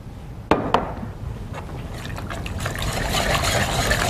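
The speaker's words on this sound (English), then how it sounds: "when I'm adding my cornstarch and my water mixture, is to continually, just like you would kind of with flour, you need to whisk, whisk," Cornstarch and water mixture whisked into simmering corn chowder gives a couple of sharp clinks, then a building wet, sloshing churn that grows louder and busier toward the end, up close.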